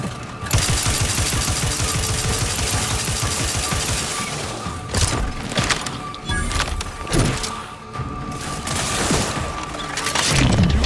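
Heavy automatic gunfire in The Outer Worlds 2 battle, a loud near fusillade with rapid repeated shots, punctuated by thuds and short pauses before bursts resume.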